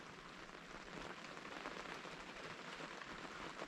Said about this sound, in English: That's very definitely rain and not snow.